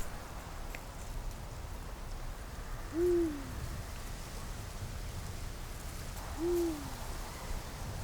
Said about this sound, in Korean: 어둠이 깔리고 수리부엉이가 먹이 사냥에 나설 시간.